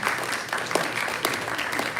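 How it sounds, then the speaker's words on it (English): A town hall audience gives a quick round of applause for a ministry planning team, steady light clapping at a moderate distance with no voices over it. "So just a quick round of applause for our planning team."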